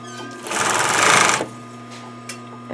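A sewing machine fitted with a zipper foot stitches a cushion with a long stitch length. It makes one close, rapid whirring burst of about a second between quiet stretches with a low background hum.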